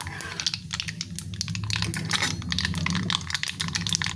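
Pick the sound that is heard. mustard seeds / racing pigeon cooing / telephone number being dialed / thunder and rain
mustard seeds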